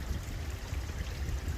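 A shallow stream pours over stones on a hillside near abandoned mines, a steady, soft, close rushing trickle with no voices.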